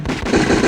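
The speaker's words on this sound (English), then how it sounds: "dude, you hear gunshots" Rapid gunfire from a video game, a dense continuous burst of loud shots filling the short moment with no speech over it.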